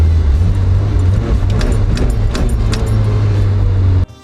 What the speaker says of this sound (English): excellent throttle response, which I will now demonstrate by making the car buck.